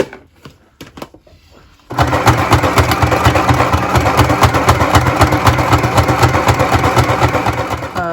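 A sewing machine punches stitches through a grungy handmade mini book, starting with a few scattered clicks, then settling into a loud, steady, rapid mechanical rattle that runs unbroken to the end.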